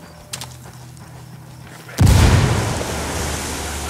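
A frag grenade in Ghost Recon Wildlands detonates with a sudden, loud blast halfway through, preceded by quieter game ambience and a faint click, followed by a lingering rumble and debris hiss.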